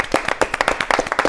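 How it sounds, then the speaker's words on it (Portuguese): A small studio audience on a Brazilian talk show claps for a guest, each clap distinct and close in a quick, uneven rhythm over a brief stretch. "Salva de palmas pro Rony."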